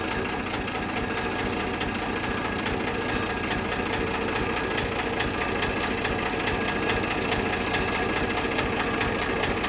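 A diesel tractor engine with a Simpson engine runs at a steady idle, a constant low rumble with rhythmic knocking, unbroken and close by, with no talking.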